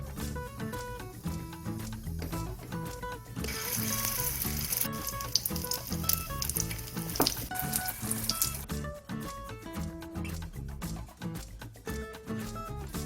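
Oily sizzling of an egg-battered fresh oyster pancake (Korean gul-jeon) frying in a pan, steady and close, under background music with no talking.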